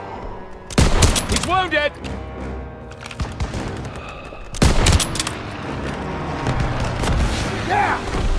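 World War II battle gunfire in Call of Duty: WWII, with two loud bursts of rapid shots and booms separated by a pause, while a soldier's voice shouts during the firing.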